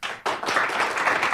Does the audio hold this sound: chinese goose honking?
no